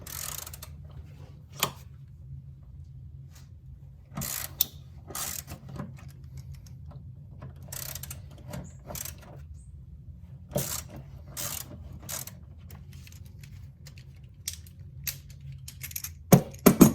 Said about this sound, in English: we're just gonna loosen the 5 bolts that need to move here